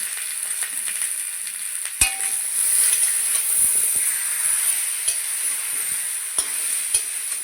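Spice paste of poppy seeds and melon seeds being stirred in a hot frying pan for a vegetarian drumstick curry, a close steady sizzle with occasional sharp clicks of the spoon against the pan.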